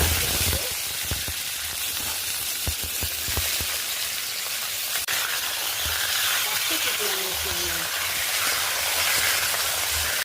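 Whole garam masala sizzles in hot white oil, a steady crackling fry with occasional pops and clinks of stirring, close and continuous throughout.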